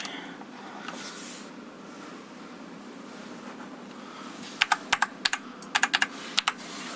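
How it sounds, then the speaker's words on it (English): Short bursts of key clicks come from a Penclic MK1 mechanical keyboard, crisp and close, in two quick clusters over a steady low background hiss. "Probably gonna lock myself out of Windows playing with this keyboard."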